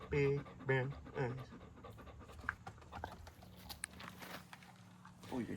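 A dog panting close by in quick, breathy huffs, with soft patter and faint footsteps in between, under someone talking.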